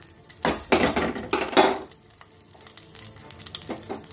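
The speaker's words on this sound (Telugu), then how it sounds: "ఫస్ట్ పోపు వేసేసుకుందాం." Whole spices for tempering crackle and sizzle as they hit hot oil in a kadai, two loud bursts of frying that settle into a quieter, steady hiss with faint utensil clinks.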